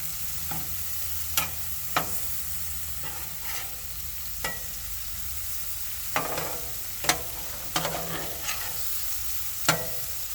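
Beef tips sizzle steadily on a Blackstone flat-top griddle as a spatula flips them, a constant hiss with a few sharp scrapes and taps scattered over it, no voices.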